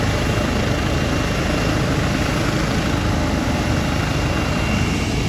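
A Life Link medical helicopter lifts off from a Walmart parking lot outdoors, its rotor and engine producing a steady, loud broadband roar with deep low-end rumble that holds constant throughout.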